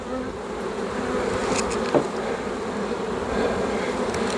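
Honey bees buzz around an open hive during a hive move, a dense, steady close hum with a few brief louder passes and no speech.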